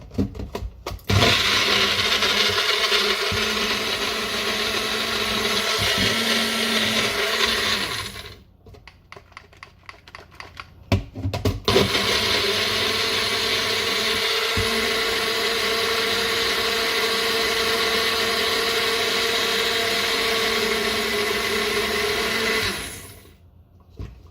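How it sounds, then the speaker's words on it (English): A blender whirs steadily while blending purple smoothie ingredients, running loud and continuous, briefly stopping before restarting and then cutting off near the end; no talk over it. "I'm going to put it in a blender. And we're going to blend it for about 60 seconds until it's nicely finely blended"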